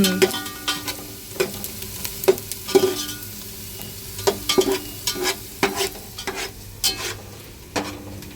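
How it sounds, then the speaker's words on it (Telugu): Ginger and garlic fry for a goat head curry, a close sizzle under repeated sharp scrapes and taps of a spoon against the pan in an uneven rhythm, with no one talking. "అల్లం వెల్లిగడ్డ పచ్చివాసన పోయేంత వరకు అల్లం వెల్లిగడ్డ కూడా ఫ్రై చేసుకోవాలి"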